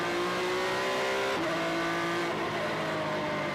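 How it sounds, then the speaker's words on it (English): A Formula 3 race car at the 2023 Macau Grand Prix accelerating hard up the hill, a loud, continuous high-revving engine note with a quick gear change partway through. "avoids banging wheels with Armstrong, and powers up the hill."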